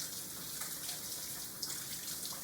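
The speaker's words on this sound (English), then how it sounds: "Stick them back under the water and keep washing them off." Hands being washed under a running kitchen tap, a steady close hiss of water with small splashy shifts as the hands move through the stream, with no talking.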